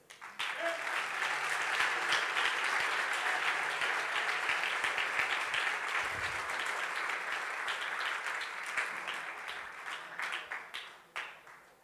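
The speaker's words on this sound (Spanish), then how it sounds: "Y todo el pueblo aplaudiendo." Wedding guests at a church ceremony break into long, steady applause, a fairly distant dense patter that rises quickly, holds for several seconds and tails off. Faint voices come through beneath it.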